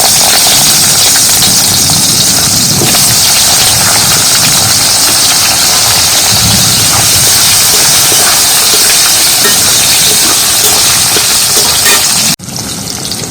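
Raw onions go into hot white oil for a chicken curry and fry with a loud, steady, hissing sizzle that fills the whole stretch, then drops off sharply near the end.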